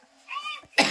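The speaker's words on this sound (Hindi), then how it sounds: "हमको तो आज ये थोड़ा सा खांसी होता है" A person with a cold coughs once, a sharp, loud burst near the end, after a softer throaty vocal sound.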